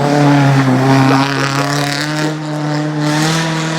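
A race car at the Goodwood Festival of Speed 2012 on a handbrake turn, its engine loud and close with a sharp revving whine that dips under braking, then climbs again as the throttle opens.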